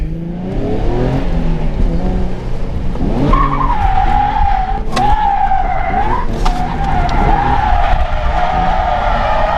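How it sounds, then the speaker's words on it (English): A stock Nissan 350Z drifts, its engine revving hard under a loud, sustained squeal of skidding tires that rises and holds close by. "Let's see how the Z does for its first little drift session here."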